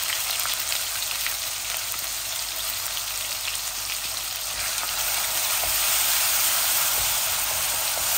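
Blended red and white onions sizzle steadily in a hot pan, a continuous bright crackle with no talking over it, holding near and even throughout.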